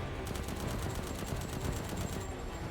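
Rapid automatic gunfire in Resident Evil Village, a dense continuous burst of evenly spaced shots emptying a whole magazine, fairly quiet in the mix with no talking over it.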